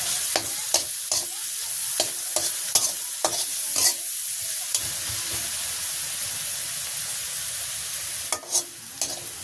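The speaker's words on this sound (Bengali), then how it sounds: "পেঁয়াজটা সুন্দর করে ভাজি করে নিয়েছি।" Sliced onions frying in oil with salt and turmeric in a village kitchen pan, a steady close sizzle broken by sharp scraping stir strokes, with no talking.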